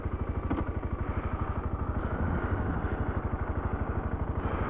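Single-cylinder thump of a 2009 BMW G650GS motorcycle engine, close and steady, pulsing evenly throughout as it idles or runs at low revs.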